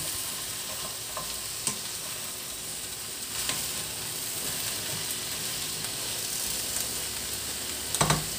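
Pepper and chili powder being stirred through a sizzling pan, a steady loud fry hiss running the whole time with occasional sharp scrapes of the spoon and a clatter near the end.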